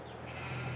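Sheep bleating in the Farming Simulator 22 video game, a single faint drawn-out bleat against a steady wash of game ambience, with no talk.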